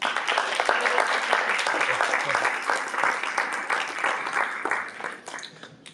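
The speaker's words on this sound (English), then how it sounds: "Let's give them a huge round of applause." Applause for supporters at a jazz breakfast fundraiser: a room full of people claps briskly and steadily, then the sound gradually thins and fades toward the end.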